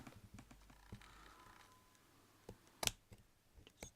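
Scissors snip paper pieces for a handmade doily book. Quiet, close clicks and snips come in an uneven rhythm, with one sharper cut standing out.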